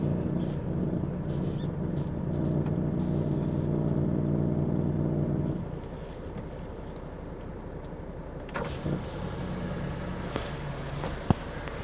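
A DHL delivery van's engine idles and rumbles steadily while it maneuvers to park, then settles to a lower, quieter drone, with a few clunks and knocks near the end.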